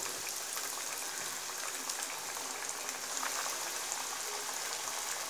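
Beetroot cutlets fry in hot oil in a kadai with a soft, even, rain-like bubbling hiss that holds steady throughout, fairly faint and without voices.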